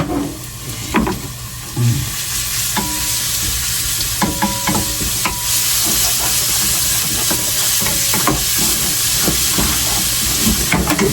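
Garlic sizzles and hisses steadily in a hot pan while being stirred, a loud continuous frying crackle with scattered scraping strokes of a utensil and no talking, cooked for pancit bato noodles.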